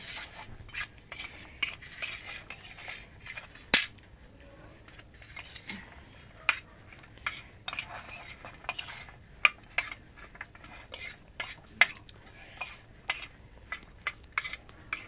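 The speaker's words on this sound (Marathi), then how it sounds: "जरा कालवून घेऊ. मिक्स करून घेतात जरा." Salted food being stirred and mixed in a dish with a metal spoon: irregular light scrapes and clinks, close and fairly quiet, with no talking.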